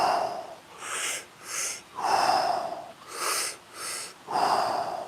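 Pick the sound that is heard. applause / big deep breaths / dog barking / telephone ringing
big deep breaths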